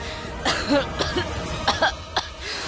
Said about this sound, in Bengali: সত্যি কাশি হচ্ছে?